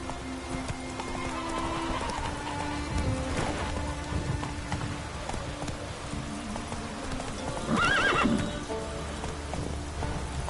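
Roach, the horse in The Witcher video game, walks with a steady clip-clop of hooves over a constant patter of rain, and a shrill whinny rises near the end.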